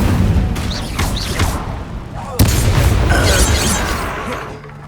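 A fire spell, Incendio, bursts during combat in Hogwarts Legacy with a sudden sharp blast partway through. Rumbling fight noise and shouted voices surround it before and after.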